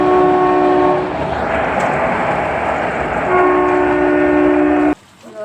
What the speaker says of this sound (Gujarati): અમારે જો અહીંયા ટ્રેન પણ આવી